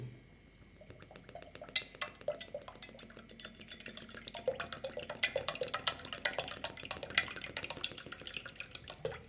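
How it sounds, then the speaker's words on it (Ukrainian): Cooking oil pours and trickles into a pot in a long stream, with light clinks and drips. "Тепер беремо олію, каструлю, ставимо її. Заливаем сюда олею."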